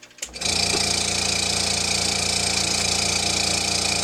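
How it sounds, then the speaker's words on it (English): A sandcarving vacuum table system starts with a brief click, then settles into a steady, loud mechanical hum with a fine rapid buzz that runs unchanged throughout. "I wait until the vacuum has sucked the table down first."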